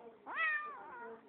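A close, clear cat meow, one long call that swells and then trails off into a softer tail, heard alone with no talking.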